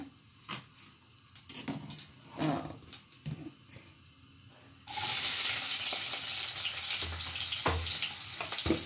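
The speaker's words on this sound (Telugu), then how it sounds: "ఈరోజు వచ్చేసి నేను లంచ్ బాక్స్లోకి చిక్కుడుకాయ ఫ్రై చేస్తున్నాను" Broad beans frying in a pan for a school lunch box, a loud steady sizzle starting abruptly partway through after quieter kitchen clatter and taps, continuing close and unbroken to the end.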